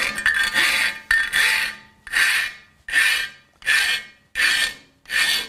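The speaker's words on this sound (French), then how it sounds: "Donc je lime." Metal being filed by hand with a flat file, seven regular rasping strokes in a steady rhythm, each push a loud, close scrape followed by a short quiet return.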